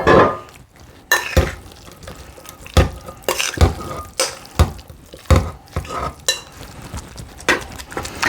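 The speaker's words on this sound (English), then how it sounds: "I just take my spoon and I'm kind of just pushing down on the meat, trying to get it all, equal there in the pan" A spoon presses and pats ground-meat meatloaf mixture down into an ungreased loaf pan, giving irregular wet squishes and soft metal taps close up, several firm pushes in a loose, uneven rhythm.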